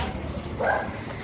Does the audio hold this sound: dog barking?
yes